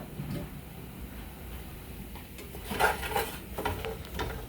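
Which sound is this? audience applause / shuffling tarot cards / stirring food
stirring food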